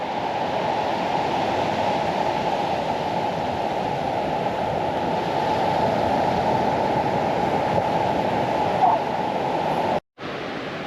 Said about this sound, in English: There are a few surfers out there at the moment catching a few waves.